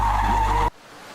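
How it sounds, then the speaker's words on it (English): A car's tires skid in a loud, sustained screech that is cut off abruptly after well under a second, leaving near silence. "If the car moves with a velocity greater than the limiting value, it skids away from the center."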